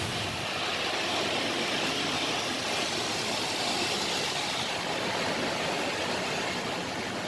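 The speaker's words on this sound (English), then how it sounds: "The car wash." An automatic car wash runs close by, a steady, loud broadband rush of spraying water and machinery roar that holds unbroken for the whole stretch, with no voices over it.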